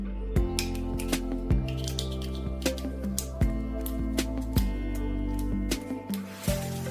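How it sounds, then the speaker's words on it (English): Scissors snip a ping pong ball into small pieces, giving a series of sharp, crisp cuts at irregular intervals, each followed by a brief ringing tone, close and fairly quiet. "we will take the ball and use scissors to cut it into small pieces"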